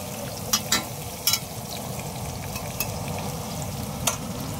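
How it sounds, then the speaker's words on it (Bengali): Onions frying into crisp beresta for chicken leg biryani, a steady close sizzle in hot oil with a few sharp scraping stir clicks on the pan, no talk. "আমাদের বেরেস্তা হয়ে গেছে ভাজা"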